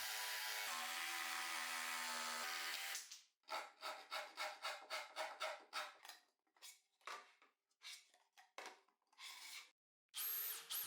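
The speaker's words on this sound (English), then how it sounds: "Now I'm going to cut and machine the back of the router table." Wood for the back of a homemade router table on a mobile workbench is cut and machined: a steady loud power-tool whine, then a run of rhythmic short rasping bursts of machining, with no talk.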